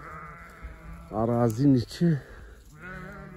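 Sheep bleat several times in a spring pasture, a cluster of loud, wavering calls in the middle and another starting near the end, with a person talking nearby.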